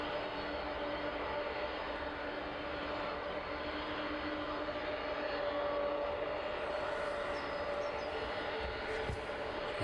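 A long-haul airliner at East Midlands Airport, its engines a steady, distant roar holding at a constant level throughout.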